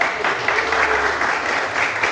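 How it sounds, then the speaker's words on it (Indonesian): A brief, steady burst of classroom clapping after a presenter finishes, dense and fairly loud with no clear talking. "berikan tepuk tangan untuk Bapak."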